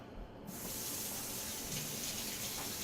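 Water runs steadily from a kitchen tap to rinse a spoon while making tomato soup, a broad continuous hiss and gush that starts abruptly after a brief quiet moment and stays loud and even throughout.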